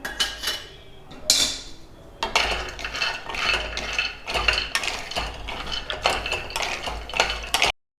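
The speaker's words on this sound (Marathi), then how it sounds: "आता इथे आपण बदाम, काजू आणि हे पिस्ते एकत्र भाजून घेऊया।" Almonds, cashews and pistachios are roasted together in a pan, and a utensil scrapes and clatters against the metal in a steady, busy rhythm with nobody speaking. Brief pauses break the stirring before it stops abruptly.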